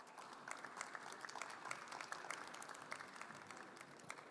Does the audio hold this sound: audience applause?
yes